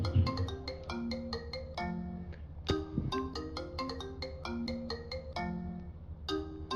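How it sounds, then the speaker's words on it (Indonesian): An iPhone ringtone plays in GTA, a bright melodic marimba-like pattern of quick plucked notes repeating in phrases, fairly quiet and alone without talk. "nada dringnya"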